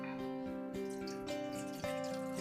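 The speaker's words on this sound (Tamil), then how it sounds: "இப்போ இதுக்குள்ள தண்ணி விடுவோம்." Water runs and splashes steadily into a cooking pot, with a few gurgling shifts in tone as the vessel fills, close and alone without talk.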